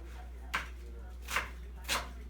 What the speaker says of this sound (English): And then you just start chopping away.